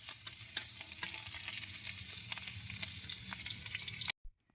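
Onion sizzles and crackles steadily in hot oil in a frying pan. The dense frying hiss is close and continuous, then it cuts off abruptly near the end, leaving silence with one brief thump.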